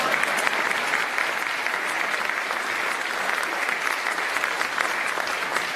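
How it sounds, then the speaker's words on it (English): Steady, full audience applause fills a large room at a BMW event with Clemson University partners, dense continuous clapping throughout at even loudness with no speech. "You can applaud."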